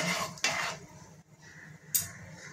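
A spoon clinks twice against a pot as ghee is added to boiling water, over a low, steady background.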